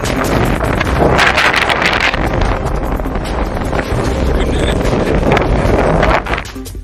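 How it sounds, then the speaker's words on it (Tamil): Strong gusting wind sweeps up dust in a sudden cyclone-like whirl near Marudhamalai in Coimbatore, roaring loud and steady against the microphone with no letup until a brief dip at the very end. "கோவை மருதமலை அருகே திடீரென்று சூறாவளி போல் சுழன்றடித்த புழுதி காற்று"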